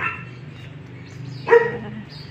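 One short dog bark rings out at moderate distance on a subdivision street, over a steady low background hum.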